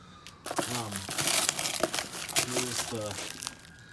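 Plastic packaging holding a set of car wheel spacers for a VW Jetta build crinkles and rustles as it is torn open nearby, in repeated bursts with a voice talking over it.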